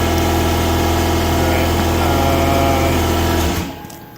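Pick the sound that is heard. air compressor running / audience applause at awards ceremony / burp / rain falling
air compressor running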